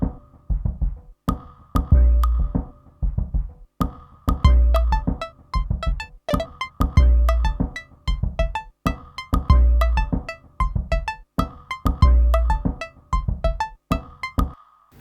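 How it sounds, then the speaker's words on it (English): Korg Volca Sample playing a steady sampled drum pattern, punchy low kicks with crisp ticking hits in a regular tempo, loud and close, layered with a looping synth melody and no voices. "I will also here need some tempo keeping from the Volca Sample"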